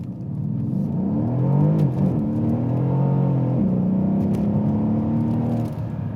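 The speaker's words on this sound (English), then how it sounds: "It is in sport mode, so I'm going to go ahead and accelerate and show you what this will actually do." A 2012 Mercedes-Benz CLS63 AMG accelerates hard in sport mode, its engine rising in a loud, sustained roar with rising and falling pitch sweeps as it pulls through the gears, heard from inside the car with no talking.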